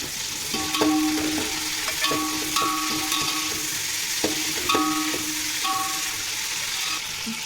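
Mint leaves frying in a pan with green chilies, a steady sizzle under repeated scraping and stirring strokes of a spatula at an irregular rhythm.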